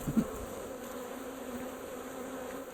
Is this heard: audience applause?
no